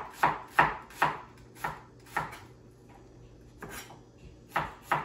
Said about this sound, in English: how do I cut onions without tearing up?